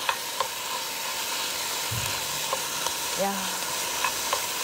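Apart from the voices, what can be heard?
onion, seaweed and cabbage stir-frying in sesame oil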